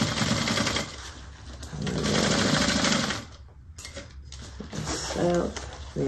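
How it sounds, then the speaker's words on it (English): A sewing machine stitching a fabric bag, running in bursts of rapid whirring and clatter with brief pauses between seams, close and fairly loud, with a voice faintly talking at moments. "sew across the bottom"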